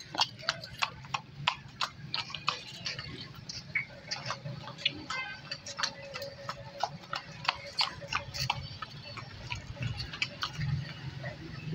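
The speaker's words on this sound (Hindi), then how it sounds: "अभी चला के तुम दिखाने फुल एक्टिव घोड़ा है" A horse for sale walks along, its hooves clip-clopping in a steady, fairly close rhythm, with faint background noise and low talk underneath.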